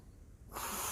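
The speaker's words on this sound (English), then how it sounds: "blowing her nose in this natural environment" A woman blowing her nose outdoors on a park hiking trail by the ledges, a short quiet stretch then a sudden loud breathy honk-like blast rising over faint outdoor ambience.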